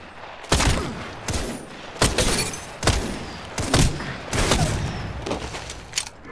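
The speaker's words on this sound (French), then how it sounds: "On tire dessus." Gunfire in the video game Apex Legends, sharp, punchy shots crack out in irregular bursts and single reports, some echoing briefly, with a faint voice underneath.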